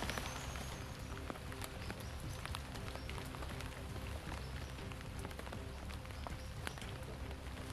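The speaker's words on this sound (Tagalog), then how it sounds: "hindi pa rin tumitila ang ulan mga ka-idol." Rain pattering steadily on a surface, a dense spray of drops with scattered sharper ticks, close and unbroken.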